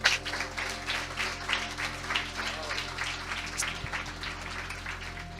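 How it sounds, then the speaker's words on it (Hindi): Church congregation clapping together during a sermon, a steady sustained round of applause from a crowded hall that gradually fades, with a low hum beneath. "पहले इस वचन के लिए ताली बजाएं।"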